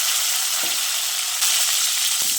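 Medium tomato pieces frying in oil with cumin seeds for a cabbage dish: a loud, dense, continuous hiss and crackle close up, with a couple of faint knocks from stirring.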